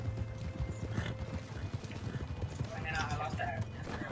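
Horse hooves clip-clopping in the Red Dead Online video game, a quick repeated thudding gait with a whinny, heard beneath someone talking.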